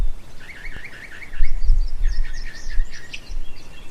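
Birds singing outdoors near a porch, a clear warbling song followed by a second burst of chirping phrases, moderately distant over a low steady background rumble.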